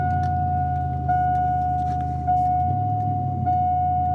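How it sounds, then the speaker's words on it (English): A used 4x4 vehicle's engine runs right after a cold start, settling into a steady idle with a low rumble and a constant whine; no one speaks. "Cold start."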